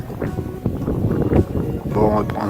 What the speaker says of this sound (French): il y a trop de vent là